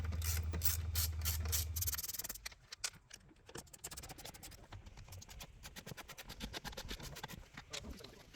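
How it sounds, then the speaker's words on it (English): A ratchet clicks in quick repeated bursts while Torx 30 bolts are undone on the cabin air filter housing of a BMW E46, with close metallic ticking and light rubbing and no talk. "Cabin air filter housing, it's removed by unscrewing these bolts, these for Torx 30."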